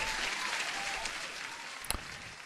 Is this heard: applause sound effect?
yes